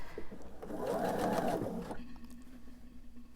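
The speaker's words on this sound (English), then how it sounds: "And sew down the length of my piece." Sewing machine stitching diamond quilt pieces together, running in a steady close whirring burst for about two seconds before stopping, leaving quiet room sound.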